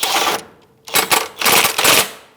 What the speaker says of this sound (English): I'm going to snug up the main bolt here.